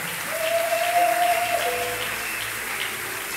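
A church congregation applauds and cheers, a dense wash of clapping with a sustained shout or whistle rising over it, then easing off.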